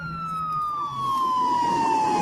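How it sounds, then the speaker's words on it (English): A police car passes at speed with its siren wailing, the tone sliding steadily downward as it goes by, heard over a loud, constant rush of traffic noise. "Police car that just been past with sirens going and going quite fast."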